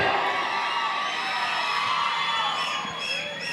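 Audience cheering and whooping for Gilli at a reality show event, a dense, bright crowd roar with a few high shouts rising near the end, loud and continuous throughout.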